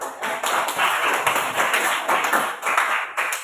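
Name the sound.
classroom students clapping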